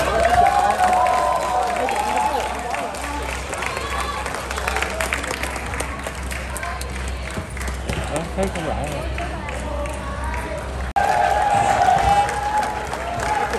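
Football supporters in a Ho Chi Minh City stadium applaud in a broad, steady wash of clapping and crowd noise that runs throughout, with a commentator talking over it.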